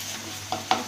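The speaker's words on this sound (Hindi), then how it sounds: "इसे हम थोड़ा 1 मिनट के लिए ही भूनेंगे, ज़्यादा नहीं भूनेंगे।" Drumsticks roasting with mustard masala in a pan, a faint sizzle with two quick scraping stirs of a spoon.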